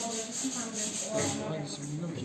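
Sandpaper rubs back and forth by hand over a wooden piece in a workshop class, a continuous scratchy abrasion heard close up, with muffled talk in the background.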